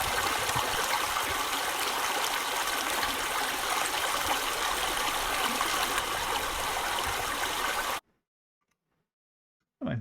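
Steady flowing water in the Myst game's Channelwood Age, a continuous close trickling stream that runs evenly for about eight seconds, then cuts off abruptly into silence.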